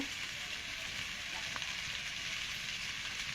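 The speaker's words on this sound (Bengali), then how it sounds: "ভেজে রাখা আলুটা দিয়ে আমি আর একটু কষিয়ে নেব" Fried potatoes being sautéed with spice paste in a pan, a soft, continuous sizzle and crackle of oil with a faint scrape of stirring near the middle, heard alone at low volume.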